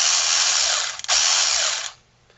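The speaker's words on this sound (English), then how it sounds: "pull the trigger. How about that? Wonderful. And there we have it. One cordless ratchet." A 3/8 inch drive cordless electric ratchet, held in a vise after repair, whirs loudly and steadily for about two seconds with a brief dip in the middle, then stops.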